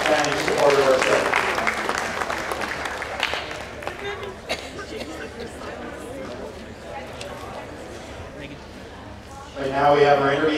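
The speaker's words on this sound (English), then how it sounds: "Let's give a big round of applause to Ari Epstein from Quality Seed for his long-standing support of our show" Crowd applause at a Holstein cattle show, heavy at first and then thinning into scattered claps, with a voice over a loudspeaker talking through it and a fresh burst of clapping at the end.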